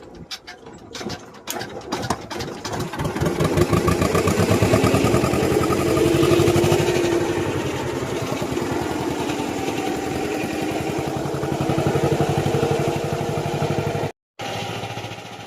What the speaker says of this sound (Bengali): দাদু আমাদের ইঞ্জিন স্টার্ট দিয়ে দিচ্ছে